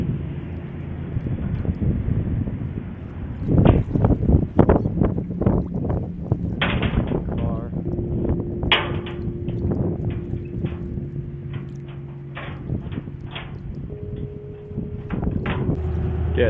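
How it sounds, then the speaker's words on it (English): A Roush 427 Mustang with a manual clutch rumbles as it is driven off a trailer, a low engine drone under steady wind noise with a few louder revs and knocks along the way. "Getting the Roush Mustang off the trailer here."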